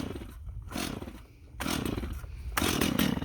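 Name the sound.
Stihl MS250 chainsaw starting up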